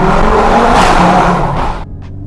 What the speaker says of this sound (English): You can't beat that 5-cylinder noise